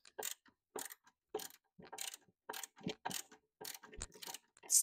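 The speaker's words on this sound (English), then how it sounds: "So I have to put all the screws in." A screwdriver drives screws to mount a shelf, making a series of about a dozen quick ratcheting clicks in short, evenly spaced bursts, close and clear with no talking.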